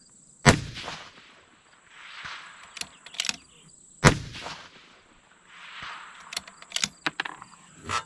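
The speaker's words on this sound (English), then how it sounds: "Got these 2 Varget loads I'm going to burn up here for the brass." Two sharp rifle shots fired with Varget powder handloads for a 6 Dasha at an outdoor range, each a loud crack with a brief echo, several seconds apart, followed by fainter clicks of the bolt and casings, with insects buzzing steadily in the background.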